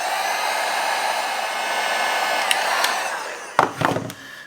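Heat gun warming a PEX crimp clamp to loosen it, a steady loud blowing hiss running for several seconds, then a few sharp clanks as the tool is handled.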